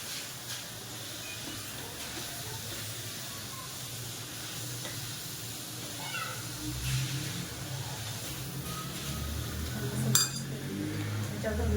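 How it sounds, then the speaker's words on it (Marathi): A spoon stirs jaggery in a pan for a sweet modak filling, giving a steady soft scraping with occasional light metallic clinks and a faint hiss, close and unaccompanied by speech. "गुळ चांगला मिक्स करून घेऊ आपण आता याच्यामध्ये"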